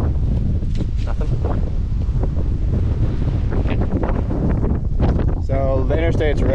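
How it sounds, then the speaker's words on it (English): Strong wind roars and buffets the microphone outdoors in a steady, loud rush with no letup, while a brief voice surfaces near the end. "It was extremely windy out here."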